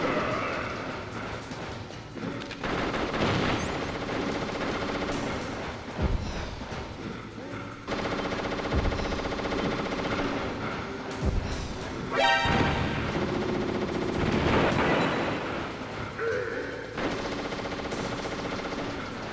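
Enemy gunfire from the Metal Gear Solid video game crackles in repeated bursts and single shots over about twenty seconds, mixed with game music and impact sounds and fairly loud throughout.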